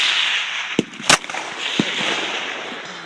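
Gunshots at a shooting session: a few sharp, isolated cracks, with one loud close report around a second in, over a steady hissy background and no talk.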